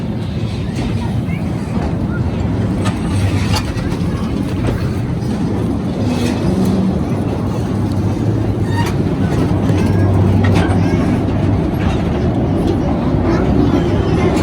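Continuous rumble and clatter of an amusement-park ride train at Knott's Berry Farm rolling along the tracks, loud and close, with occasional metallic clicks and squeals over the steady roar.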